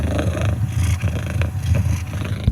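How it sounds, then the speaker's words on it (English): A cat purring plays through a Soundcore speaker as a steady, low rumbling purr with rhythmic pulses, close and fairly loud, lasting only a few seconds. "the purring cat"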